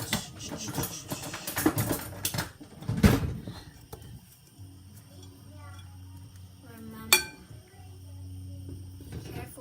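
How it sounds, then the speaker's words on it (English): Meat drops into a cooking pot for home-style spaghetti: a few dull thumps and a sharp clatter of pot and utensils, close by, with a faint hum of a kitchen behind. "So I'm gonna put my meat in the pot."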